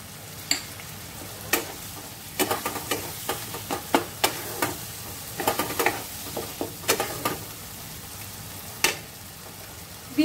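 Onion pieces fry in a pan for paneer pasand, a low steady sizzle broken by a series of sharp close clacks and scrapes of a spatula stirring, irregular and spaced out.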